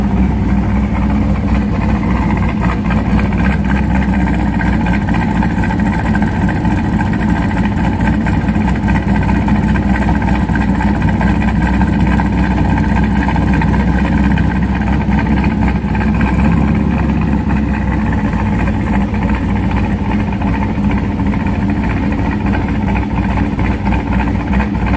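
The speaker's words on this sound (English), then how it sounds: "this is a before the X pipe sound clip of the idle with the BTR stage 2 cam. This is still with the H pipe in there" A Chevrolet C5 Corvette V8 with a BTR stage 2 cam and H-pipe exhaust idles steadily and loud, a deep lumpy rumble held close and constant with no voices.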